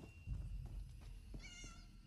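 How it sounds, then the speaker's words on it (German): A cat meows once in the fantasy role-playing game Elder Scrolls Online, a short, faint, high call over low game ambience and a few soft footstep-like thuds. "Oh, Katze!"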